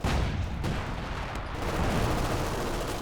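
Dense, continuous battle gunfire from a Company of Heroes 2 match, a loud rattling fusillade of overlapping shots and rumble with no letup.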